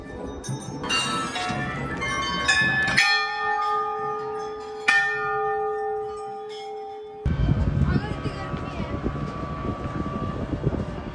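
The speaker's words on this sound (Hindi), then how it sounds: "काफ़ी सारी घंटियाँ लगी हुई है यहाँ पे पूरे रास्ते में भाई" Bells hung along the Kedarnath pilgrimage path at a Himalayan temple ring out in several clear, sustained strikes, one tone lingering and decaying, followed by a busier stretch of nearby crowd bustle.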